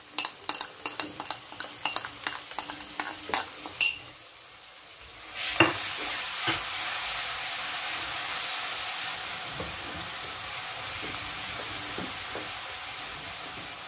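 Cumin, ginger-garlic paste and spices for a mixed vegetable sabzi are stirred in a pan: a spoon clinks sharply against the metal several times, then a loud, steady sizzle of frying takes over and runs on with a few scrapes.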